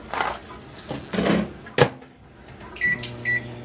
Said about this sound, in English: throw it in the microwave